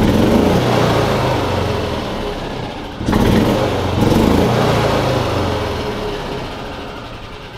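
Yamaha golf cart, recently troubleshot for start and run problems, accelerating under throttle: a loud, close, steady engine drone that surges around the middle and holds, with no talking.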